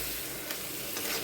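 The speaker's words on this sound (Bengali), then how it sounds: "মাছের সাথে ভালো করে মশলাগুলো লাগিয়ে একটু ভালো করে কষিয়ে দেব" Prawns coated in spices sauté in a pan for a Bengali masala curry, giving a soft, steady sizzle with a light scrape of stirring, faint and brief with no talk.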